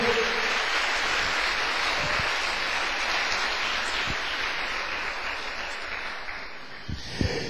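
A church congregation claps and applauds in praise, a dense, sustained wash of hand clapping that holds steady and tapers slightly toward the end.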